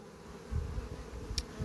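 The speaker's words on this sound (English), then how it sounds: "So there's another bee with pollen on her legs." A bee with pollen on her legs buzzes close by in a quiet setting, with a few short bursts of low droning and one brief sharp high tick near the end.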